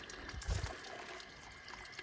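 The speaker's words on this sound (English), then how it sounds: "Dipping it in the water." A chicken being dipped and swished in a pot of heated water before plucking gives a short, close splash and slosh of water around the half-second mark, then low, quiet liquid movement.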